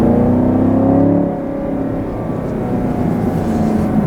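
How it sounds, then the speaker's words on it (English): A 2020 Chevrolet Camaro 2SS with a 10-speed automatic holds a steady, loud engine drone with strong induction roar, easing slightly then building again, heard from inside the car without talk. "The induction noise is freaking awesome."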